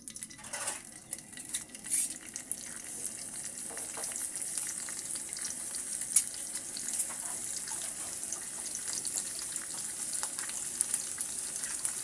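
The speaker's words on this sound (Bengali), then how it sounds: "মাছগুলোকে আমি তেলের মধ্যে দিয়ে দিচ্ছি" Tengra fish fry in hot oil with a continuous hissing sizzle, joined by occasional soft clatter and bubbling as the pieces settle in the pan.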